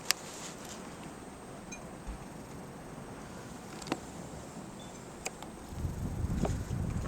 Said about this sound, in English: Oh, it's cold and windy.